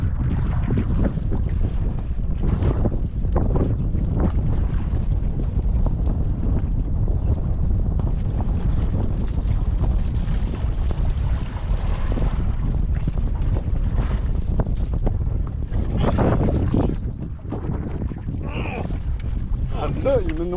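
Strong wind roars steadily across a microphone aboard a small fishing boat at sea, with waves and the rumble of the hull underneath and someone talking intermittently.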